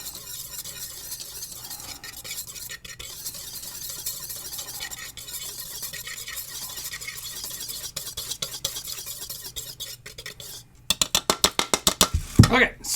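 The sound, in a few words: whisking cookie dough ingredients together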